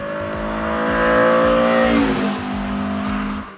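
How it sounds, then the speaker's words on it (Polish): A BMW E30 with its 2.3-litre S14 four-cylinder engine revs hard, a loud, close, steady roar that rises, holds, then eases slightly with the pitch dropping. "Silnik S14, czterocylindrowy"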